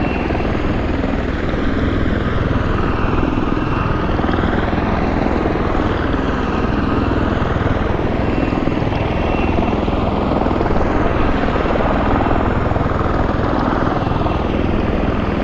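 Aircraft engine drone in a flight simulator game, a loud continuous whirring roar that holds steady with slight swells throughout, no voices.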